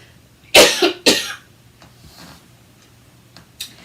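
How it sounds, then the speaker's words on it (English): Two sharp coughs in quick succession, close by, then quiet room tone with a faint third cough at the end. "I have a little cough, so you have to excuse that today, please"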